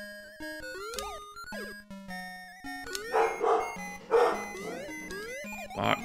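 Chiptune-style barking from a Castle of Illusion starring Mickey Mouse Master System game, a few clipped electronic yaps and yips popping out over bouncy synth music, fairly loud and close.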